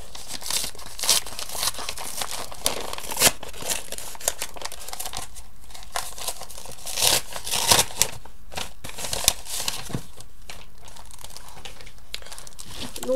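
Crinkling and tearing of paper and packaging as a received letter-box parcel is opened by hand, irregular rustles and crunches close up, with no speech.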